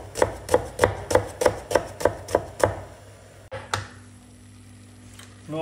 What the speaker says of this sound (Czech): Teď si nakrájím jednu cibuli.